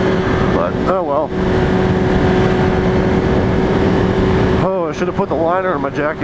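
A 2005 Suzuki GSXR 1000 sport bike runs on a test ride, its engine a steady droning hum mixed with wind rush, while a rider talks over it now and then.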